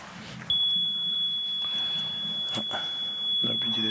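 A steady high electronic buzzer tone sounds continuously at a pétanque match, held for several seconds over background crowd murmur and a few clacks.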